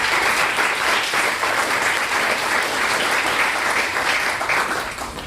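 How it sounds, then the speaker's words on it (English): Loud, steady applause from a crowd at a UC Merced event, a full, unbroken roar of many hands clapping that holds at an even level and tapers only slightly at the end. "Another round of applause for these folks."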